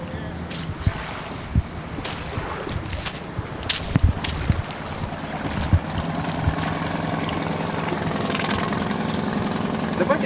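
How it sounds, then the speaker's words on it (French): A sailboat's inboard engine idles close by with a steady, rough mechanical rumble and knocking, punctuated by occasional clunks and bumps around the boat. "Il marche super bien, le moteur."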